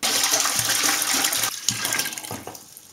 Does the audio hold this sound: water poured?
yes